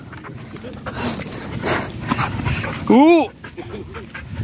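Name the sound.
dog playing and barking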